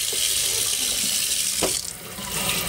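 Steady hose water blasting mud off a waterproof RC truck, a loud continuous rushing spray that briefly dips and surges as the stream shifts.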